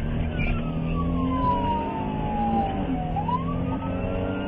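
A police car siren wails in a long rising and falling sweep during a chase, heard close and loud over steady road and engine noise.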